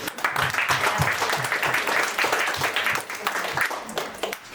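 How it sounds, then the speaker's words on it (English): A crowd at a ghazal and Sufi concert evening breaks into a warm round of applause, many hands clapping steadily at moderate loudness before it begins to fade, with a little talk underneath. "I think we should have a huge round of applause."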